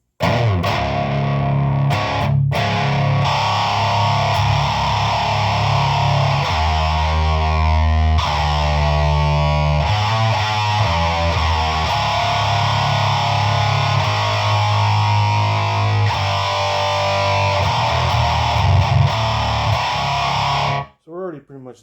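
Electric guitar through a Peavey Supreme amp with an HM2 distortion pedal, loud heavily distorted chords and riffs ringing out continuously for about twenty seconds before stopping abruptly.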